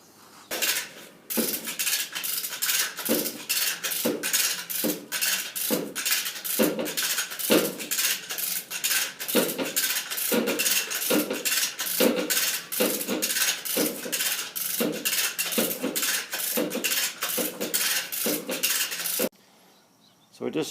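A heavy grinder machine on moving skates is hauled along with a come-along, giving a steady rapid series of metallic ratcheting clicks and clanks, loud and close, stopping briefly near the end.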